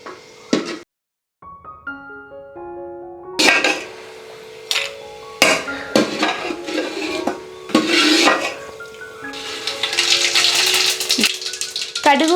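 Asafoetida heating in sesame oil in a pan while mustard seeds fry, with clinks and rattles of the pan and utensils, a scraping stir and a steady crackle that grows denser toward the end.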